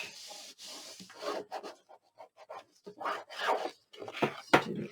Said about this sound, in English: So we're going to stick this down onto the cardstock here, put it up, turn it over and burnish.